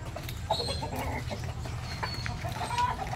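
A red chicken clucks repeatedly in short, irregular bursts, close by and fairly loud over a constant low rumble of farmyard background, with no talking.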